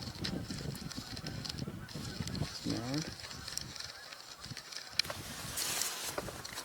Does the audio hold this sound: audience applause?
no